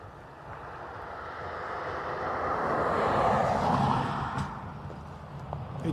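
An ATR turboprop aircraft climbs out at Dublin Airport, a broad engine drone that swells to a peak and slowly fades, with wind noise on the microphone.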